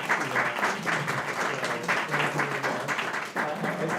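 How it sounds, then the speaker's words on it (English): Audience applause for school board members at a meeting, a steady wash of clapping running the whole time with some voices mixed in. "So I just ask everybody to give these board members a round of applause."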